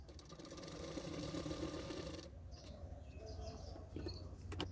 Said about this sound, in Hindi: दोनों फैब्रिक के साथ एक साथ सिलाई कर लूँगी